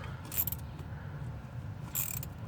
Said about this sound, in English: this is just a 13mm bolt that holds this together. So you're just going to take this off